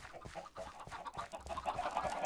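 Chickens clucking in the video game Minecraft, a one-block world: a dense, continuous chorus of soft clucks and fowl chatter from several birds, fairly quiet and close, with no talk over it.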